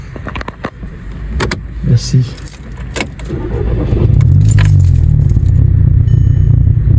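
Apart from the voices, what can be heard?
MK5 VW Golf GTI engine misfiring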